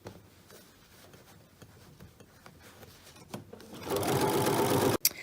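A sewing machine stitches binding onto a quilt, up close: soft handling and a few light taps, then the motor whirs into a loud, steady run of stitching before stopping abruptly.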